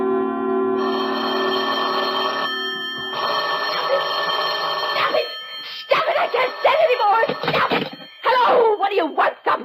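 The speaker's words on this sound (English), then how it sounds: "Stop ringing, will you? Stop it," A telephone bell rings in long sustained bursts for the first half, with a short gap between them, in the radio drama Sorry, Wrong Number; a voice then speaks over it.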